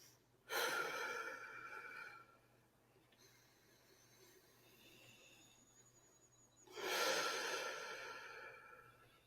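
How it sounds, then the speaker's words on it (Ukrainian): Slow diaphragmatic breathing during a calming exercise: two long, loud breaths a few seconds apart with a quieter stretch of soft breath noise between them, close to the microphone and with no speech. "Повертайся до діафрагмального дихання ще 4-5"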